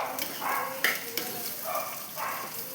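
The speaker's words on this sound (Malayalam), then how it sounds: "ഇതൊന്ന് വഴറ്റിയെടുക്കാം." Onions sautéing in a pan for a squid roast, soft sizzling in intermittent swells with a couple of sharp clinks of a spoon against the pan, moderately close.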